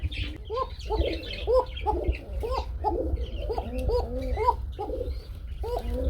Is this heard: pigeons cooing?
yes